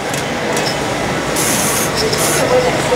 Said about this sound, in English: I'm just spraying it to the root so I can just get some lift.